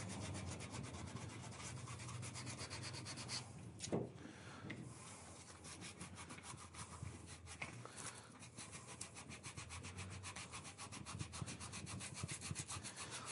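Steady, faint rasping rub of 100-grit sandpaper smoothing grinder and Dremel marks from a piece, a continuous back-and-forth scrubbing heard up close and alone, with one brief louder scrape.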